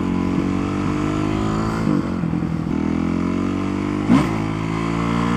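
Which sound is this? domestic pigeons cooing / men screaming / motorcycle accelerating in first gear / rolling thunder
motorcycle accelerating in first gear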